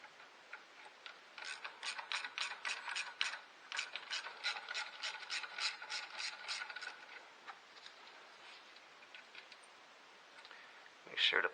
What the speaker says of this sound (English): Now we're going to take the two bolts loose with our ratchet.